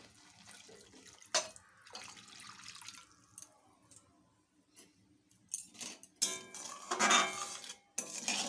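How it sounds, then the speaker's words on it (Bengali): Water poured from a vessel into frying masala for paneer korma in a home kitchen, a short splashing rush with sizzle, preceded by scattered clinks and scraping of utensils, moderately close. "এরপর দিচ্ছি আমি জল"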